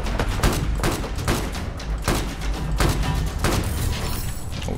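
Rapid shots from the Unica 6 revolver, a premium weapon that resembles a Magnum, in the Battlefield 4 Gun Master mode, sharp close reports at an uneven pace amid other gunfire and crashes, with no talk.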